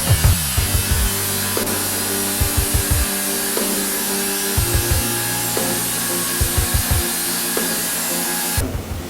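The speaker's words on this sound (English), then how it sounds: "This is CNC lathe machine." A CNC lathe at a technical university runs with a loud, steady broadband machine roar and tonal hum, punctuated by repeated short thumping knocks at irregular intervals.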